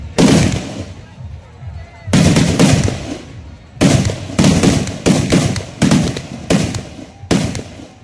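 Octopus firecracker bombs burst in a rapid series of loud, crackling volleys at a village gajan festival in Bankura, with short gaps between bursts and voices in the crowd between them.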